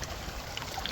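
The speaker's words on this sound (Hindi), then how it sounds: "ये यहाँ से बिल्कुल चश्मा कुदरती निकल रहा है पहाड़ों के बीच से, और ये इस तरफ जा रहा है।" A natural spring flows out from between mountain rocks, heard as a soft, steady trickle and babble of running water close by, with no voices.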